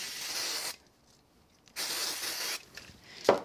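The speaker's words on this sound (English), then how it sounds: "So I'm going to just use a little bit of spray glue." Spray glue hisses from an aerosol can in two close bursts, the first about three-quarters of a second and the second slightly shorter, with a brief quiet gap between them, followed by a small handling knock.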